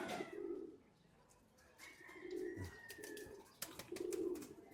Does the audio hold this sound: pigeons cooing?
yes